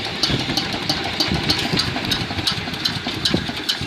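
A walk-behind tractor engine chugs close by with an uneven, knocking rhythm, running steadily throughout with no voices.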